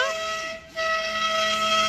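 A sustained, steady whistle tone from a park toy train starting up sounds over outdoor background noise, dipping briefly before resuming, nearby, at Rajiv Gandhi Park in Vijayawada.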